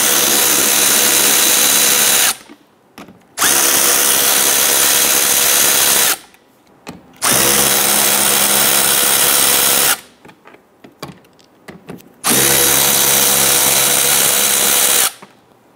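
A power drill loosens four 7/32 screws on a 2011-2019 Ford Explorer during an AC condenser replacement. It runs in four loud, close, sustained whirring bursts separated by short pauses, with no talk.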